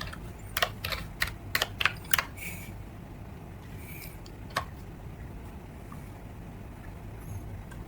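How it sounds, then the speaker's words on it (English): A short burst of quick keystrokes on a computer keyboard as a command is typed into a command prompt, close and crisp, followed by a pause and one final key tap, with no talking. "I'm still using desktop tab and then command prompt, and I type the command"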